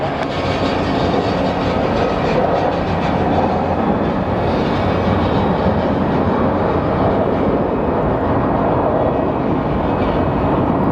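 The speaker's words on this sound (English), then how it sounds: "And there's our Boeing 757 from Honeywell." A Honeywell Boeing 757's jet engines roar at Phoenix Sky Harbor International Airport, where the plane runs engine tests: a loud, steady, broadband rumble and hiss that holds evenly throughout without a break.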